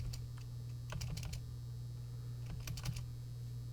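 Fingers typing on a computer keyboard: faint, scattered clusters of light key clicks over a low steady hum, with no talk.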